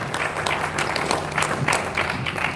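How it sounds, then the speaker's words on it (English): An audience applauding a woman praised by a pastor in an interview, dense continuous clapping throughout at steady volume, with no voices above it. "That one requires a round of applause."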